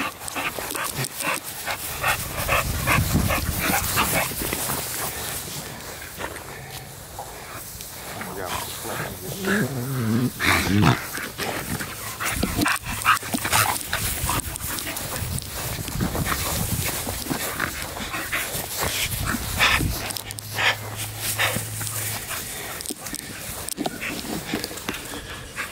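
Excited bully-breed pit dogs are let out together, barking, panting and snarling in bursts, close and lively, while people talk over and between the dog noise throughout.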